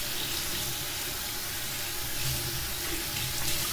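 Hot tap water runs steadily into a sink while parsley is washed, a continuous close splashing hiss with slight shifts as the stream hits the leaves.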